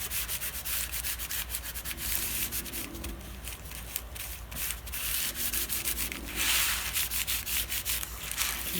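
Rubbing and wiping across paper on a handmade no-sew junk journal, clearing away excess glue; a steady, close, continuous scrubbing texture with short repeated strokes and no voices.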